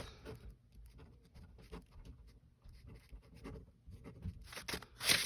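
Pencil scratching across paper while rock names are written down, a continuous soft rustling with short strokes and pauses, close and fairly quiet, with no voices.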